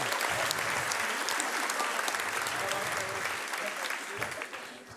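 A live audience claps steadily for the full stretch at a German live show, the dense applause loud and close before it tapers slightly at the end.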